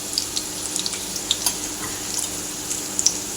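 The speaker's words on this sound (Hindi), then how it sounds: "ये आलूओं को मैं फ्राई होने दूंगी पहले" Potatoes frying in a pan with spices, a soft steady sizzle with small scattered crackles and light stirring taps, close and alone without talk.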